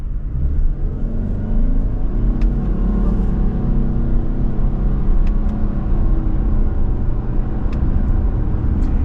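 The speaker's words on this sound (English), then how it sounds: "And now we're going to shift up." Engine of a 2024 Subaru Outback Limited XT working through simulated manual upshifts, a steady loud rumble under acceleration with faint changes in pitch and no talk.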